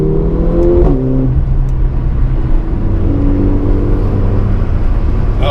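A Mercedes A45 AMG engine pulls hard on a mountain road, a loud, steady in-car roar with rising and shifting engine tones throughout, close and continuous with no talking.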